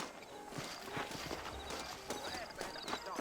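Quick, quiet hoofbeats of a horse in the video game Red Dead Redemption clip-clop along at a brisk pace, fairly faint, with soft snorting sounds mixed in.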